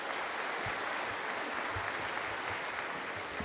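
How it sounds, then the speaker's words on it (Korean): A church congregation at a Sunday worship service applauds to welcome the pastor, a steady, dense wash of clapping from a large room that holds constant throughout, with no talk over it. "박수로 환영하겠습니다."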